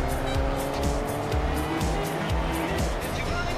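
A turbocharged Ferrari sports car drives in the Fortnite video game, its engine revving hard in repeated rising surges with tire noise, continuous and loud, while a voice is faintly present.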